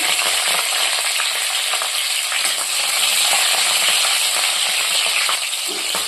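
Cut green chillies fry in hot oil for a tempering in a pan, a steady close hiss of sizzling with faint stirring scrapes, no voices.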